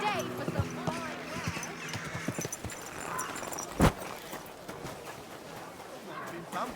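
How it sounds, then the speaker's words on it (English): Horse hooves clip-clop at a walking pace in the medieval game Kingdom Come: Deliverance II, soft and moderately close, mixed with a character's speech and a sharp thud partway through. "Been pampering this horse."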